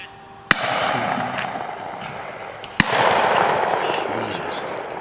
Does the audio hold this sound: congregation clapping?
no